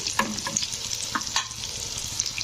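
Oil sizzles and crackles steadily as Kerala-style veg cutlets fry, with small pops and light scraping from stirring, fairly close and without talk.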